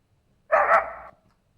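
A person imitates a dog with a single short, loud bark-like yelp, alone against near silence.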